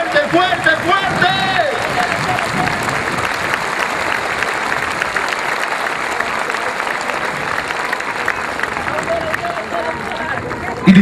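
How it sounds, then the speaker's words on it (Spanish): Loud, sustained applause from a large crowd honoring the Virgin Mary (Virgen del Cisne) at a religious celebration, dense clapping mixed with cheering and crowd babble that holds steady for the whole stretch. "Un fuerte aplauso para nuestra madre, que se escuche fuerte, fuerte, fuerte."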